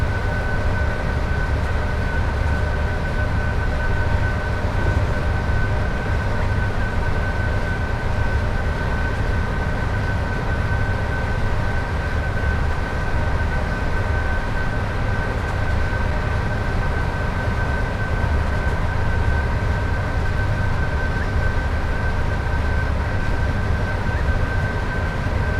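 A Class 86 electric locomotive hauling Mk2 coaches on the West Coast Main Line over Shap, in Train Sim World 6, makes a loud, continuous rail rumble with a steady tonal whine throughout.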